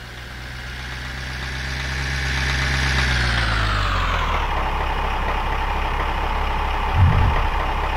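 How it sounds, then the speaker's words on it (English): Fuel truck pulling up in the Orbiter space simulator game: a heavy engine rumbles steadily, its pitch sliding downward as it slows to an idle, with a soft thump near the end. "there is a big nasty fuel truck which pulls up when you open the hatch"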